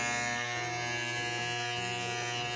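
A Profoil electric shaver buzzes steadily and close, a continuous even hum while finishing off a taper haircut, with no talking over it.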